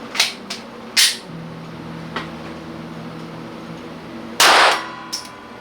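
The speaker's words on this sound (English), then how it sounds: "we're going to do 5 rounds with the stock barrel on the Taurus G3" Sharp, isolated reports from a Taurus G3 9mm pistol with its stock barrel firing Blazer 115-grain ammunition, a handful of loud cracks spread unevenly across a few seconds with a faint steady hum between them.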